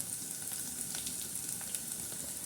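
Garlic tempering (tadka) sizzling in hot oil, a steady crackling hiss with scattered pops throughout, close and continuous, no voices.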